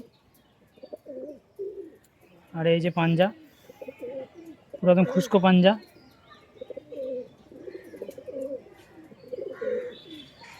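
Allahabadi high flyer pigeons coo in two short, rolling bursts close by, with someone talking before, between and after them.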